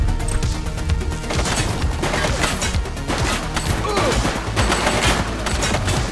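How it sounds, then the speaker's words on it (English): Rapid gunfire rattles through a shootout in the video game The Precinct. Dense, continuous bursts of shots and cracks are layered with crashes, and the shooting stays loud and busy throughout. "She's shooting!"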